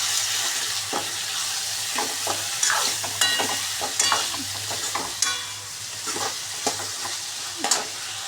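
Soaked moth bean dal frying in a pan while being stirred, a steady sizzle broken by repeated scraping strokes of a spoon at an irregular rhythm, close and fairly loud.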